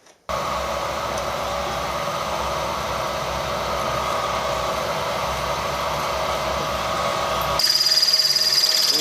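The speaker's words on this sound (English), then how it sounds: "then we'll drill this hole" Steady loud whirring drone of a milling machine drilling a hole in bronze, running continuously close by, with a higher-pitched tone appearing near the end.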